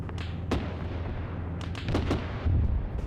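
U.S. mortar artillery fire in a military video game, with several heavy booms and sharp blasts landing at irregular intervals over a steady rumbling background.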